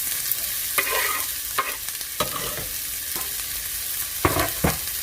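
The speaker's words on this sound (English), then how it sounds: "Some oil. I'm going to toss in half of a large yellow onion." Half a large yellow onion frying in oil for runzas, with a steady sizzle broken by repeated scraping bursts as the pieces are stirred and tossed in the pan.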